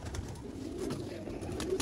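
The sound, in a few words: pigeons cooing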